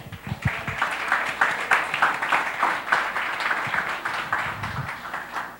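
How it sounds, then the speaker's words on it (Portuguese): A church congregation applauds together after a call to praise God, a dense, steady wash of clapping in a reverberant hall that keeps going for several seconds at a fairly even loudness. "Em nome de Jesus, vamos aplaudir esse Deus?"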